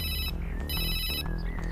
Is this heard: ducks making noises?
no